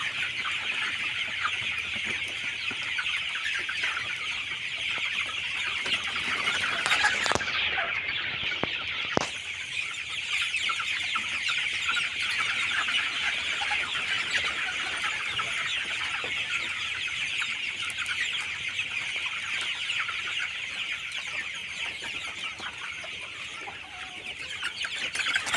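Hens cluck steadily for a long stretch in a village yard, a continuous chorus at moderate distance over constant background hiss, with a couple of sharp knocks early on and no talk.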